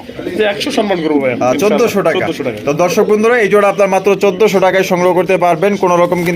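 A pair of Raj Golla pigeons coo softly in the background, almost buried under someone talking steadily throughout.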